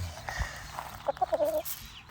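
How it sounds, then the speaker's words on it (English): A backyard farmstead chicken gives a short run of clucking calls, fairly close and distinct, after a quieter stretch of faint outdoor background. "And then we have our chicken."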